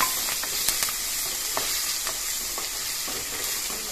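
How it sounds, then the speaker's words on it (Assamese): Chopped onion sizzling in hot oil with panch phoron and whole cumin, a steady bright frying hiss with scattered small pops and a few utensil scrapes, close and continuous with no talking. "তাৰপিছত কাটি থোৱা পিঁয়াজখিনি ইয়াত দি দিছোঁ"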